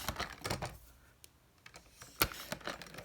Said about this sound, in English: I'm going to just cut those into 1 inch by 1 inch pieces.